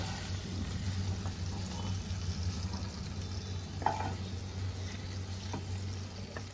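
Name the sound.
shrimp frying in oil in a pan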